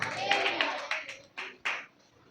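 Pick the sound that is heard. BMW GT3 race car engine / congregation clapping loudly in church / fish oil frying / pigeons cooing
congregation clapping loudly in church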